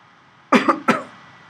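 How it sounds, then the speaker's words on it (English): Three quick, close coughs in a short burst, then quiet. "I'm coughing a lot here"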